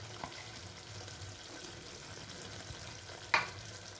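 A potato and eggplant dish with small fish, onion stalks and chopped coriander is stirred in a pan. A soft, steady sizzle runs throughout, with a quiet scrape early on and one sharp clink near the end. No voices.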